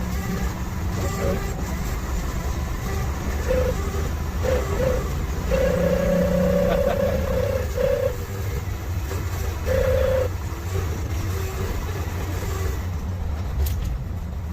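A vehicle with an automatic transmission accelerating hard and upshifting late, a loud steady engine drone inside the cabin with a few rising tonal whines as gears change.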